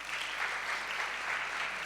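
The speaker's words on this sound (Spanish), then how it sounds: "Así que un fuerte aplauso para Juana," Steady applause from an audience at a talk by a pharmacist on addiction chemistry, an even wash of clapping held at moderate distance for the whole stretch, with no voices over it.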